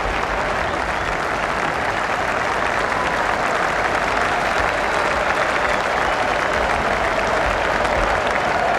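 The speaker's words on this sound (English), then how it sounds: "Full house, they're on their feet applauding that." A full-house cricket crowd at Birmingham gives a Test match against Australia a standing ovation for Alec Stewart and Andy Caddick's last-wicket partnership. Loud, dense, continuous applause fills the ground, with crowd murmur beneath it.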